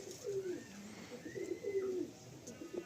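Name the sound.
pigeons cooing in a loft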